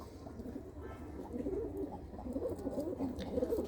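Pigeons coo in a loft where a hen sits on her eggs beside her mate, soft overlapping low coos repeating steadily and growing slightly louder toward the end.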